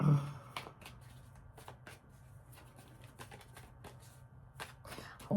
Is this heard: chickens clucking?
no